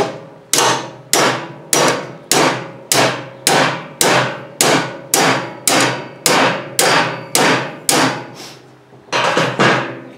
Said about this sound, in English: Then hammer the tine spring down in the holder farther.